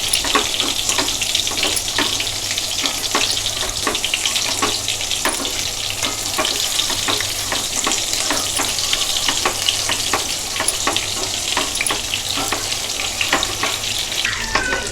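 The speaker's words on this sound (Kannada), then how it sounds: "ಸ್ವಲ್ಪ ಸಣ್ಣ ಉರಿಲೇ ಜೋಡಿಸ್ಕೊಂಡು ಬೇಯಿಸ್ಕೋಬೇಕು." Stuffed ridge gourd fries in oil in a pan on a low flame, with a steady dense sizzle and crackle that carries on throughout, close and loud with no talk.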